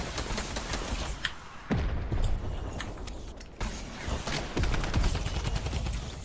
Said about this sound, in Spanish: Tem disparo até.